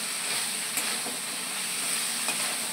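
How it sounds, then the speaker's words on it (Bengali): Teasel gourd and potato pieces stir-fry in a spice paste in a pan, giving a steady, fairly soft sizzle with a few faint utensil scrapes and no voices. "কাঁকরোল আর আলু ভেজে রেখেছিলাম, ওইটা দিয়ে আমি আর একটু ভালো করে কষিয়ে নেব"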